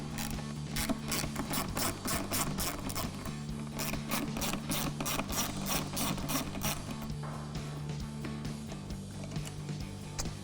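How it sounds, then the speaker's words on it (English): A ratchet with a T20 socket loosens the screws of a mass airflow sensor on a gas Chevrolet Silverado 2500 in a rapid, even series of close metallic clicks for about seven seconds, then slower, softer turning. "So we're gonna grab our ratchet and our T20 socket."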